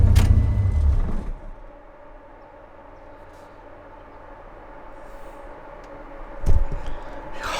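A four-cylinder engine, recently revived after freezing, idles roughly with a misfire: a steady low rumble with uneven pulsing. It follows a loud burst at the start, with a brief thump near the end.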